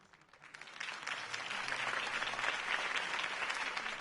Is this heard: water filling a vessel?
no